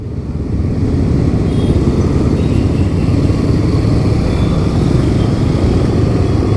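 A motorcycle engine idles and rumbles steadily up close in Bengaluru traffic, a loud continuous drone with traffic noise around it.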